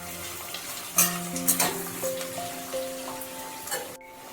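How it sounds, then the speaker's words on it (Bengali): Onions with spices and three chopped tomatoes frying in a pan, a steady soft sizzle with a few stirring scrapes, close and moderately quiet, with faint tonal background music. "মশলা সমেত পেঁয়াজ একটু ভাজা ভাজা হয়ে গেলে আমি এর মধ্যে দিয়ে দিচ্ছি 3টে টমেটো"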